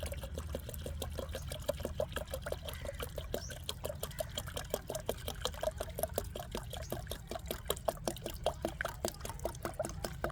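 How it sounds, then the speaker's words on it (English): Clean water pouring into a container in a kitchen, a soft continuous trickle with rapid splashing pulses, faint and close. "2 liters of clean water"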